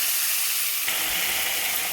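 Taro leaves hitting hot oil seasoned with garlic and green chili, the quiet hiss suddenly swelling into a steady, loud sizzle just before the halfway point and holding to the end.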